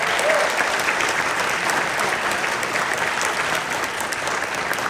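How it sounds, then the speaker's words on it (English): An audience applauds steadily at a college lunchtime jazz band concert, a dense, even wash of many hands clapping close and loud throughout, with no talking over it. "So give yourselves a round of applause."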